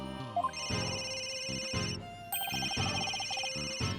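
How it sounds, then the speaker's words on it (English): A cell phone ringtone from the Ace Attorney: Dual Destinies video game plays a bright electronic melody in two repeated bursts, loud and clear with no speech over it. "Where's that ringing coming from?"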